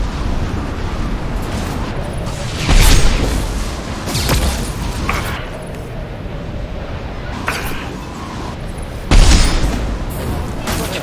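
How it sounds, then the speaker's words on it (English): Flashbang blasts in the sci-fi shooter Mass Effect 2, two loud booming bursts several seconds apart over continuous noisy combat. "Watch out, flashbangs!"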